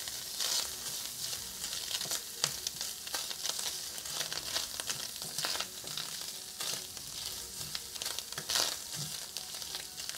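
Ham and bacon omelet frying in a pan over lowered heat, a steady close sizzle and crackle running throughout with brief louder spatters, no voices.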